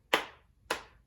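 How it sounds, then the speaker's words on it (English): Two sharp hand claps about half a second apart, close and clear, leading into a children's letter-learning song at an online story time, with no voices. "Clap your hands with me."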